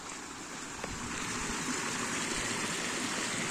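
Water runs through a small drainage outlet with a steady, close, hissing flow that continues evenly throughout, with no voices.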